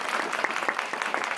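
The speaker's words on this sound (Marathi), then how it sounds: "तुमच्यासाठी एक वेळेस टाळ्या वाजवून द्या" An audience at a public gathering bursts into brief applause, with many hands clapping in a quick, dense patter that stays fairly even for about a second and a half.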